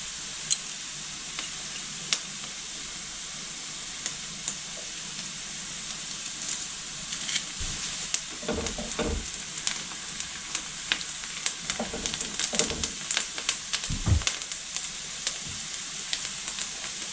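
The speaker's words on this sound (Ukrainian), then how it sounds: "Обсмажувати буду до напівпрозорості." Onions, with garlic added, fry in a pan while cooked gently until translucent for a pea-pumpkin cream soup: a steady close sizzle, with spatula scrapes and stirring clatter getting busier in the second half.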